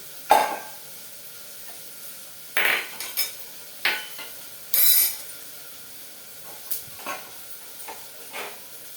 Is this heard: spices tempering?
yes